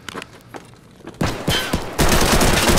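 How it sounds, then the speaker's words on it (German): Gunfire in Escape from Tarkov starts as a few scattered shots, then becomes loud, dense bursts of automatic fire close up. "Wieder schön in die Mauer schießen."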